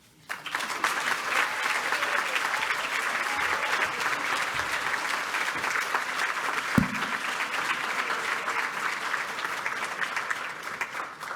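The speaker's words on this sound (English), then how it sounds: "I think we need to hear that round of applause again" Sustained applause from a large crowd at a celebration gala, steady and full throughout, with a single louder clap or thump partway through.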